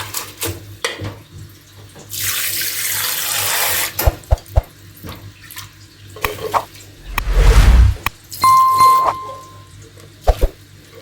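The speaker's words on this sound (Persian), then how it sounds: "تا بعد از آبیاری گندم ها آب اضافی از آبکش خارج بشه" Water poured over soaked wheat sitting in a cloth-lined colander, a loud splashing pour lasting a couple of seconds, then a heavier gush of water, with scattered clinks and knocks around it.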